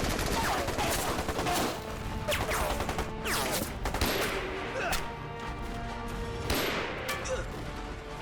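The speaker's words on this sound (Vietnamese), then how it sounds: "đó là súng máy kiểu tiệp và cả súng lục Mao giờ nữa" Bursts of Czech-style machine gun fire mixed with scattered Mauser pistol shots and explosions in an anti-Japanese war film battle, loud and chaotic, with voices shouting underneath.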